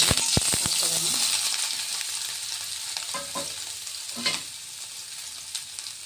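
Soaked soya chunks fry in a spoonful of oil in a pan, opening with a few sharp spatula knocks, then a close, steady sizzle with scraping stirs that gradually settles.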